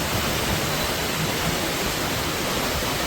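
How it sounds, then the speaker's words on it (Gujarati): Heavy rain pours down steadily outside a window in Surat, a loud, dense, unbroken hiss with no pauses or voices. "એ તમને હમણાં બારીમાંથી બતાવી દઉં કેટલો જોરમાં વરસાદ આવી રહ્યો છે."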